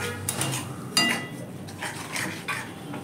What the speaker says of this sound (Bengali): তো এটা ভালো করে আমি ভেজে নেব